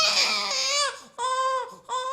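A baby wails in long, strained cries that rise and fall, with two sustained bursts separated by a short gasping pause, loud and close with no other sounds.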